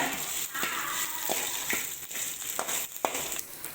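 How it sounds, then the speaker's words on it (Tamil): Tamarind sautés with onions in a hot pan for coriander seed chutney, giving a soft, steady sizzling hiss broken by occasional light scraping clicks of stirring, close and fairly quiet. "இதையும் நல்லா போட்டு வதக்கிக்கோங்க"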